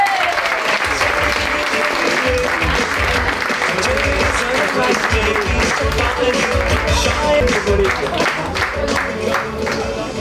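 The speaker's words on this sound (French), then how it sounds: "On peut les applaudir." Audience applause at a live show, loud sustained clapping from a crowd lasting about ten seconds, with a voice talking over it throughout.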